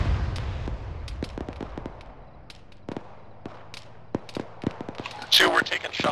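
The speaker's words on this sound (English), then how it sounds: "Two, we're taking shots from the east." Scattered rifle shots crack during a ShackTac Arma squad session, some near and sharp and others distant, with irregular spacing and a louder cluster near the end.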